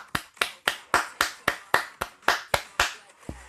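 A few hands clapping in a steady, slow rhythm, about eleven sharp claps close by, each ringing out briefly before the next.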